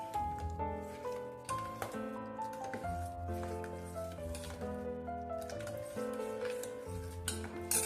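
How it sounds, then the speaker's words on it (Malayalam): A chili mixture for mango pickle being stirred in a pot, with steady scraping and soft clinking of a spoon against the pot under background music, no talking. "ഇത് കട്ടയില്ലാതെ നന്നായിട്ടൊന്ന് ഇളക്കട്ടെ"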